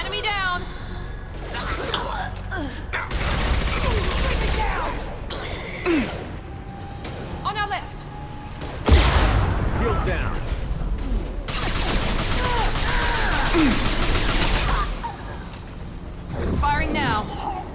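Bursts of gunfire in the video game Mass Effect 2, repeated loud volleys and impacts mixed with combat effects, with voices talking and shouting over the fighting throughout.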